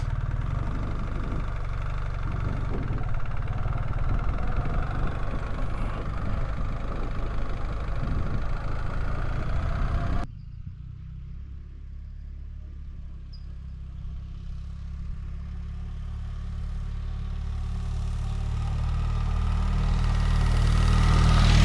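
BMW R 1300GS Trophy Edition motorcycle in enduro mode on an easy off-road trail: a loud engine drone that suddenly drops to a lower, quieter rumble midway, then gradually builds again toward the end, with no speech.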